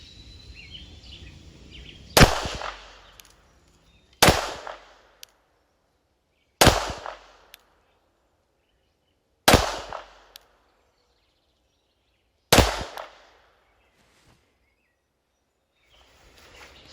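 Five sharp pistol shots from a Girsan MC14T firing 95-grain Remington rounds, spaced a few seconds apart with quiet gaps between them, loud and close with no talk.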